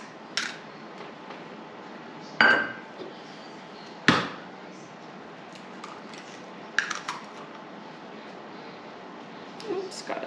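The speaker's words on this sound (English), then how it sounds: "All these eggs I've cracked, and I am still getting shells in there" Blue chicken eggs cracked one at a time against a bowl, giving a few sharp, separate knocks spaced seconds apart over a quiet, low kitchen hum.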